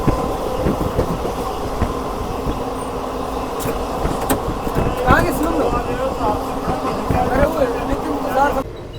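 Passenger train on a journey from Punjab to the Maha Kumbh starting to roll, a continuous rumble with rhythmic wheel clatter and faint squeals, heard from inside the carriage while someone talks over it.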